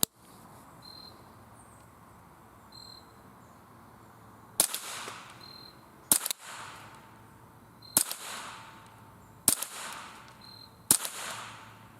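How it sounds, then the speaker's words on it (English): Six sharp gunshots from a Marlin/Glenfield Model 60 .22 rifle firing CCI rounds crack out at uneven intervals of one to two seconds, loud and close, over a steady chirping of crickets outdoors. "we're going to be shooting them interchangeably to make sure that the gun's functioning properly"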